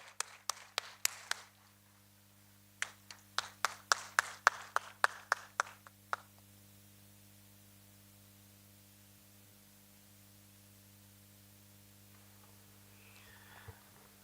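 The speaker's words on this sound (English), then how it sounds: "So let's make a standing ovation for the panel." A string of sharp, evenly spaced claps, roughly a dozen in two quick bursts, greets a panel at the Kampala Defence and Security Expo, then fades into a quiet room with a steady electrical hum.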